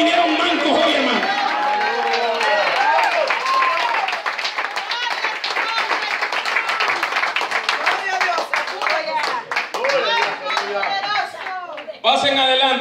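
Church congregation clapping along during an evangelical service, with dense, continuous hand claps filling the whole stretch under a preacher's voice and crowd chatter, ending in a brief sharper burst of clapping.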